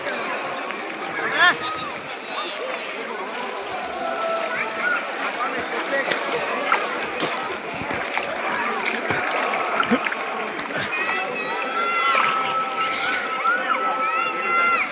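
Water flows and splashes steadily as it runs down from a mountain near Sabarimala in Kerala, close and continuous, while people talk over it.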